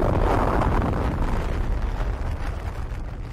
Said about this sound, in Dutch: Deze eerste kernexplosie ooit vond plaats in de woestijn van New Mexico op 16 juli